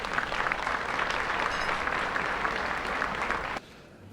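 A room full of people at an awards ceremony claps steadily for several seconds for new inductees, a dense even applause that stops abruptly near the end.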